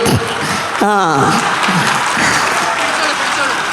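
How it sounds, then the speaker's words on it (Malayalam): Audience applause at a film promotion event held with a jewellery shop opening, a dense burst of clapping and crowd noise heard over a voice through the loudspeakers. "ഈ ഒരു കയ്യടി ആ സിനിമ കണ്ടതിന് ശേഷം ഉണ്ടാവണം"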